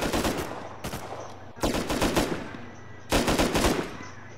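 Gunfire in the survival game Rust: three loud bursts of rapid automatic fire, each roughly a second long, separated by short pauses, close and dominant with no talk over it.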